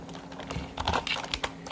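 A computer keyboard being typed on at close range in a quiet room, with a quick uneven patter of several keystrokes.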